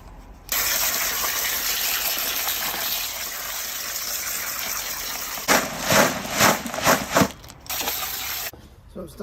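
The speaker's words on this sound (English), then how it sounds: "So you really need to give it a good wash and wash all the silt off it." Running water gushes steadily over gravel to rinse off silt, a loud continuous wash that breaks into several surging splashes toward the end before cutting off.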